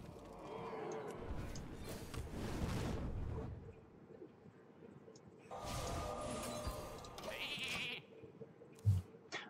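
A sheep in World of Warcraft bleats twice in quick succession amid game sound effects and a soft, low rumbling background.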